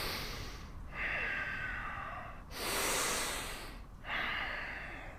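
Slow, deep breaths during a yoga practice, heard close and alone. Long breathy inhales alternate with exhales, about three full breath phases with short pauses between them.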